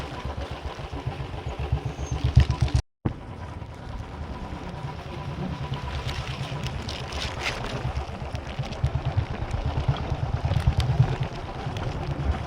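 A motorcycle engine runs steadily in heavy rain near Munnar, a low rumble with a brief dropout partway through and no speech.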